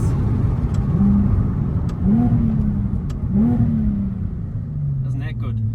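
A Nissan Fairlady 370Z engine revs up in a series of rising pulls as gears drop quickly, loud and close from inside the car, with someone talking over the engine note.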